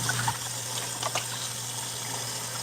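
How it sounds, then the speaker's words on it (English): Water drains steadily from a kitchen sink or pot during cooking, a continuous rushing hiss with a low hum beneath it and no talk. "Let the water out."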